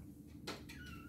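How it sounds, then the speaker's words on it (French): A single faint cat meow rises and then trails off over low background hum, heard alone. "C'est un chat."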